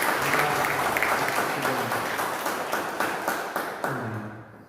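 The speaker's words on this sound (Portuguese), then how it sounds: "aplauda bem forte a palavra de Deus" Church congregation applauding in a dense, steady wash of clapping that fills the room and slowly tapers off toward the end, with a faint voice underneath.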